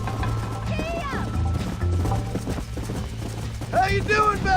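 Horse hooves galloping in Red Dead Redemption, a steady clip-clop rhythm under game music and creaking tack, with a voice calling out briefly near the end.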